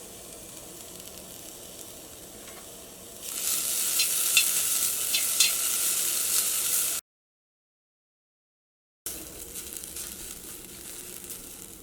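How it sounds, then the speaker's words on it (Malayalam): Grated coconut and curry leaves hitting a hot pan for Kerala-style moru curry, a sudden bright crackling sizzle that rises and holds steady, with a short silent gap before a quieter sizzle resumes. "ഇതിലേക്ക് തേങ്ങ ചേർക്കാം. അതിലേക്ക് കുറച്ച് കറിവേപ്പിലയും ചേർക്കുന്നുണ്ട്."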